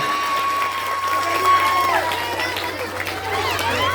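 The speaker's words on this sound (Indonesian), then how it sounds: "Tepuk tangan buat kita semuanya." Crowd applause at a gathering in Indonesia attended by officials, a dense steady patter under voices and chatter, with a sustained tone running through the first half.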